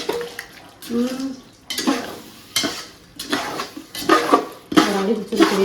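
Biryani masala, part of a 4 kg mutton biryani, being stirred in a pot with repeated clattering scrapes. About eight close, uneven strokes come in bursts with short pauses between them.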